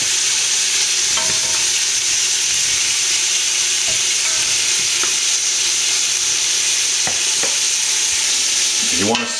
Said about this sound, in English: You want to sear this meat before you cook it deep.